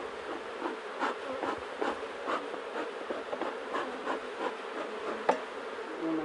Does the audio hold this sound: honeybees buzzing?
yes